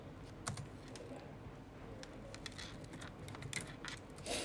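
Rapid clicking of keys on a computer keyboard, steady and fairly close, with irregular bursts of keystrokes over a low background hum.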